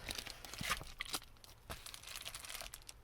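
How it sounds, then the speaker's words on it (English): Thin ceiling panel material being cut during a Ford E350 van conversion, giving a steady close crinkling and tearing rasp with short sharper snaps, no talk. "I'm going to cut on the end here."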